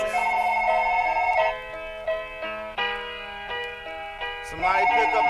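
A telephone ring sits inside a hip-hop track, with bright electronic tones that stop and start in a musical pattern and stay loud and prominent.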